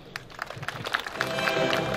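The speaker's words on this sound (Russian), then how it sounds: "Громогласные аплодисменты всем деканам, друзья!" A crowd applauds the university deans at a ceremony, clapping that swells and grows fuller toward the end, with a little voice mixed in underneath.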